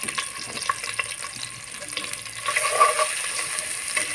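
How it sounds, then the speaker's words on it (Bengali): Ginger garlic paste with green chillies and bay leaf fries in a pan, giving a soft, steady sizzle close by with faint scraping from stirring and no speech. "আমি একটু ভালোভাবে ভেজে নিব"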